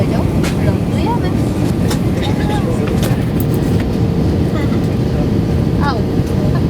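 A British Airways A320 touches down at Heathrow, heard from inside the cabin as a loud, continuous low rumble and roar of engines and wheels on the runway, with faint clatter and people talking underneath.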